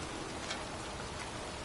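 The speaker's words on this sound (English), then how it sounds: "It's cold. It's raining." Rain falls steadily in a PS4 game scene, a faint, even hiss of drops hitting surfaces with no voices.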